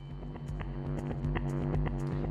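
Punchy drum hits layered with echoing, reverberant repeats sit over a constant humming drone, busy and loud with no talking.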